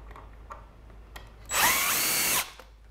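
A power drill drives a screw into pallet wood for a smokehouse build, one loud steady whir of just under a second that stops abruptly, standing out clearly against quiet background.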